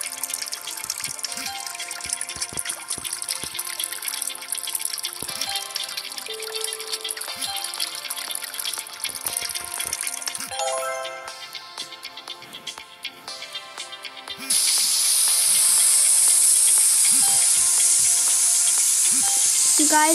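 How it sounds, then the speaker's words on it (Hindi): Water spraying onto a dirty car in a video game car-cleaning session, a steady hissing spray over a background of game music, swelling louder and more continuous in the final stretch. "हम इसे पानी से धो देंगे।"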